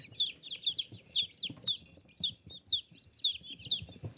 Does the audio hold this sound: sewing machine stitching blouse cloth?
no